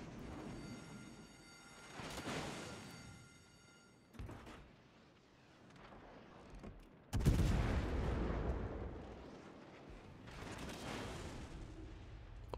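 Naval gun shots in a game, with several heavy booming blasts spaced seconds apart, the loudest near the middle, each followed by a rumbling decay over a quiet background.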